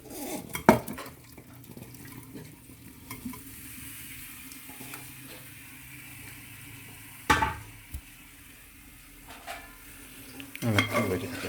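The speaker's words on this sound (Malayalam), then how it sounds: "ഇളക്കി വരിക്കാം നമുക്ക്." Kerala-style pork fry is stirred in a pan. A spoon clatters and scrapes against the metal in a few sharp bursts over a low, steady background sizzle.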